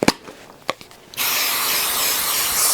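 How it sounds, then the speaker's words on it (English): A few faint clicks and taps, then a loud, continuous aerosol spray of quilting adhesive hisses close by and keeps going steadily. "spray some adhesive"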